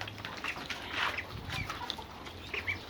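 Backyard laying hens cluck softly and intermittently at a moderate distance, short calls scattered over faint background noise.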